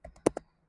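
A few quick button presses on a calculator keypad while an expression is entered: three or four close, crisp taps within a fraction of a second, alone with no talk.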